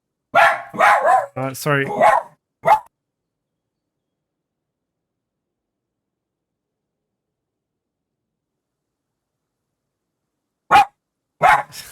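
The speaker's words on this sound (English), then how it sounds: "This is my dog barking." A pet dog barks indoors while someone opens the door. Sharp barks come close together at the start, followed by long silence and then two more barks near the end. Someone briefly says something between them.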